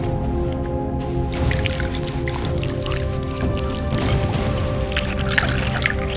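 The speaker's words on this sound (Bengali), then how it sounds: "এবার ধুয়ে ফেল" Running tap water splashes and patters steadily as hands are rinsed during handwashing, with a brief break near the start and the flow continuing close and fairly loud.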